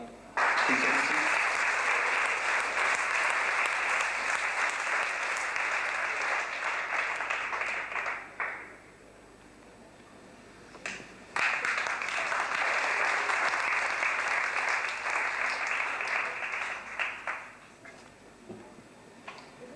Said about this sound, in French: Je vous demande d'applaudir Arnaud et Yann Golin